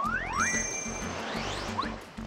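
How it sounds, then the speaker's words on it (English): A bell plant from Lava Lava Island in the Paper Mario video game, swinging like chimes to give bright rising jingling tones and dings over steady game music. "It's a bell plant. It grows only on Lava Lava Island and swings like chimes when you touch it. It makes a cool jingling sound."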